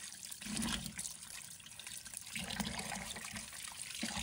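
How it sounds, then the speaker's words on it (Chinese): Running tap water rinses raw chicken wings in a kitchen sink, a steady close splashing and trickling flow that swells and eases slightly throughout, with no talk. "搓揉后，用流动水把鸡翅清洗干净"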